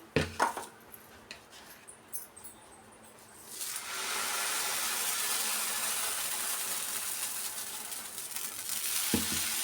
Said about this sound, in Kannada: ಇವಾಗ ನಮ್ಮ ಮನೆಯವ್ರ ದೋಸೆ ಹಾಕ್ತಾರೆ